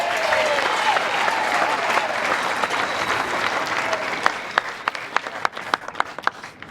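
A lawn bowls crowd at the men's fours final of the World Bowls Championships, Scotland against Australia, bursts into loud sustained applause that thins into scattered individual claps.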